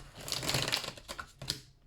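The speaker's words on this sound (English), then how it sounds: "I don't like how those cards shuffled, so I'm just going to shuffle them again." A deck of tarot cards is shuffled by hand close up, making a soft, dense run of papery riffling and flicking for about two seconds, with no talking.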